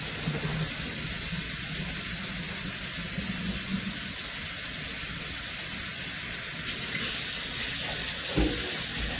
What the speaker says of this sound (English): I'm gonna fill up with water